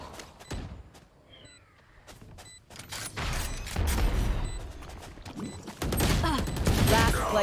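A satchel charge explosion in a college esports video game match, heard as a heavy boom amid dense gunfire and clatter that swell louder toward the end, with voices talking over the action.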